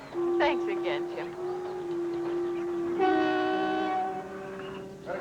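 Sustained train horn chords with steady tones and a brighter swell partway through, heard under chatter at a station in a 1972 television scene.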